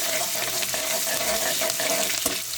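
Finely chopped ginger frying in oil in a pan for upma, a steady dense sizzle with soft stirring scrapes, close and continuous with no voices.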